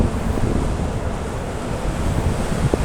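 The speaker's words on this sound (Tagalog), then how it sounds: "Lakas ang hangin, no?" Strong outdoor wind buffets the microphone in a loud, continuous rumbling roar that never lets up, with no voices.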